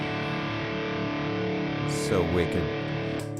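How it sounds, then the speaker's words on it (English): Electric guitar run through a Maestro Invader distortion pedal holds a steady, buzzing distorted chord throughout, with a short spoken exclamation over it near the end. "Invader Distortion by Maestro."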